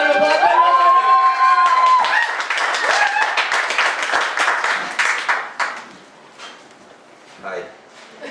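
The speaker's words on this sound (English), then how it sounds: "Round of applause." At an open mic poetry slam, an audience breaks into applause and cheering while a voice calls out over the start, then the clapping thins into scattered claps and fades toward quiet.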